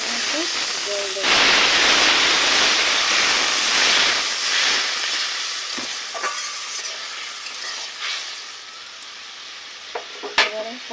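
Water hits a hot pan for potol malaikari, a Bengali pointed-gourd curry, bursting into a loud, steady sizzle and hiss that gradually settles over several seconds, with light stirring clinks near the end.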